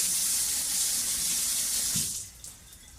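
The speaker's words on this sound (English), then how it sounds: "I am going to wet the model here a little bit so the plaster does stick a little bit better to it." Tap water runs steadily from a faucet while a plaster dental model is wetted under it, a close, even gush that stops near the end, leaving a quieter residual trickle.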